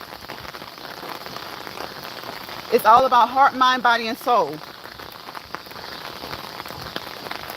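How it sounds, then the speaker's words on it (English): Steady rain patters on the ground all around during an outdoor walk, a soft continuous hiss that carries on beneath a voice speaking briefly in the middle. "today is raining, just walking in the rain"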